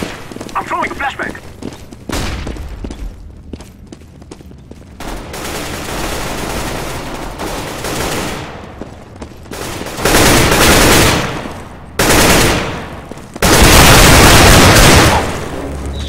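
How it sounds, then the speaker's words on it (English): Gunfire and a flashbang from the video game CS:GO, dense bursts of rapid shots and booming blasts that grow louder in the second half, with a voice talking over the start. "I'm throwing a flashbang!"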